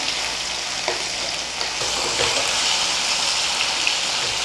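Tomatoes and spices fry in a pan, a continuous close, loud sizzle with soft crackles and occasional stirring scrapes throughout, with no talking.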